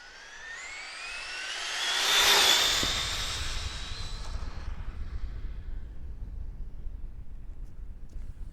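A Traxxas Drag Slash RC car on a 3S LiPo at full throttle gives off a high-pitched electric whine that climbs as it approaches, peaks loud and close, then drops away into a faint, rough rumble as it speeds off.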